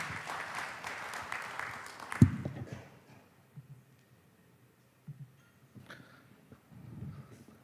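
A conference audience at a disaster health management meeting claps for a speaker for about two seconds. The applause stops abruptly, leaving a quiet room with faint rustles and small knocks.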